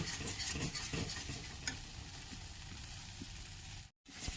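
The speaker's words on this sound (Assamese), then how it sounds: "আৰু এনেকৈ অলপ সময় এনেকৈ ভাজিব লাগিব" Ginger, garlic and green chilli fry in a pan, a soft close sizzle with repeated stirring scrapes early on, fading to a quieter steady hiss before a brief silent gap.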